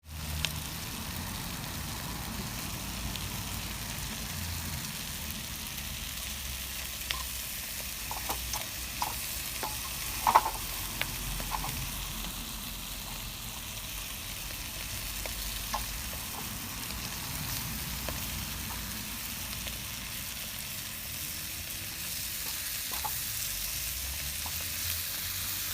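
Shrimp frying in a pan outdoors in a backyard, a steady low sizzle running the whole time with a few faint clicks and taps over it, no talking.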